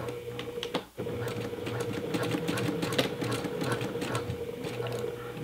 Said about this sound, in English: I'm going to use the sewing machine to sew it together